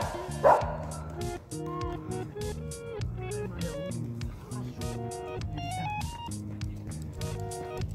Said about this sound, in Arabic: كمان في كلاب عم بيلعبوا وبيتسلوا.